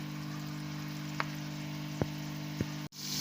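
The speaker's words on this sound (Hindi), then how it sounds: "प्याज को हम हाई फ्लेम पर तकरीबन 3 मिनट तक फ्राई करेंगे" Onions frying in oil on a high flame, a steady broadband sizzle holding evenly throughout with a few faint clicks and taps, ending in a brief dropout.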